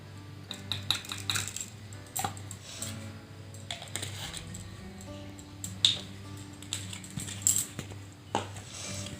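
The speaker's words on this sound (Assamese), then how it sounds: "এই গোটেই বস্তুখিনি এনেকৈ কৰি অলপমান গোটেইখিনি মিলাই ল'ব।" Vaseline and glycerin mixed together with a spoon in a small container for a home foot remedy, giving scattered clinks and taps against the dish over a low background hum, close and fairly quiet.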